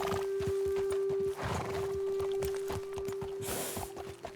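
Horses in the Red Dead Redemption 2 video game, whinnying and snorting with clip-clopping hooves on the ground, set against a steady in-game tone and ambient wind, close and fairly loud.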